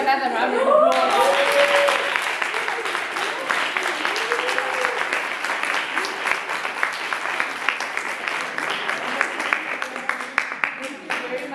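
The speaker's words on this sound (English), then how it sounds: "I think they deserve another round of applause." Sustained audience applause at the close of a school science debate during a national science week event, dense clapping from a full room that starts abruptly and holds steady for several seconds, then thins out slightly toward the end.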